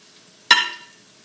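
Drop donut dough lands in hot oil with a single sudden sizzling splash that tails off quickly, close and fairly loud against a quiet background.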